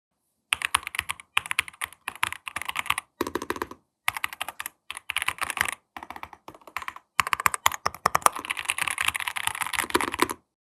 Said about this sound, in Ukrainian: а звук під час набору глухий, глибокий і дуже приємний